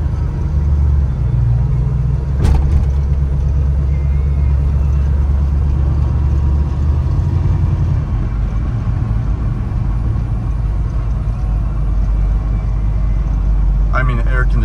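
Restored 1938 Ford pickup engine idling, a loud, steady low rumble close by throughout, with people talking over it and a brief knock partway through.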